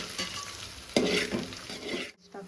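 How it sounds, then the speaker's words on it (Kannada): Ginger garlic paste fries in a hot pan while being stirred, a close, continuous sizzle with scraping strokes and a stronger burst near the start, cutting out briefly near the end. "ಫಸ್ಟ್ ಫ್ರೈ ಮಾಡಿ"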